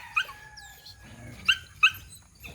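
Several dogs gathered by a rural hut where they have been digging give short whimpers and yips, a few sharp cries spaced out over a quiet background.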